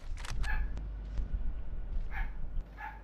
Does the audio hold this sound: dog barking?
yes